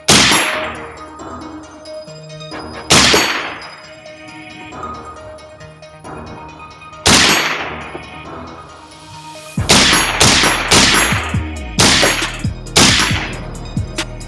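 A .22 WMR rifle fires at a 12-inch steel target 50 yards out on a farm range, a few spaced sharp cracks early, then a quick rapid string of shots, each followed by a bright metallic ring from the struck steel.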